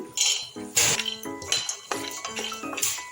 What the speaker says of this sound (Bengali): দেখো, বাদামটা আমি ভেজে নিই।